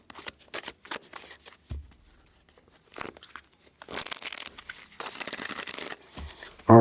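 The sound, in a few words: shuffling a deck of tarot cards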